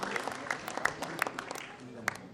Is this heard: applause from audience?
yes